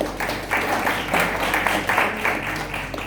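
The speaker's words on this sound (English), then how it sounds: "So huge round of applause to Dr." An audience applauds Dr. Chandra, a scientist with 18 patents, at a formal event, with a steady, moderately loud wash of many hands clapping that swells and fades in waves over about three seconds.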